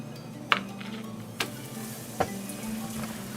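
Zucchini fritters sizzle in a frying pan with a low steady fizz, broken by a few sharp clicks or taps of a utensil, fairly quiet and with no voices.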